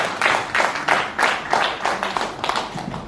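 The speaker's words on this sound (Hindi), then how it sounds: "एक बार आप लोग जोरदार तालियों का सम्मान किए।" Audience at a book launch ceremony in a club hall claps in a steady burst of applause, close and fairly loud, with individual claps pulsing rhythmically throughout and no talk over it.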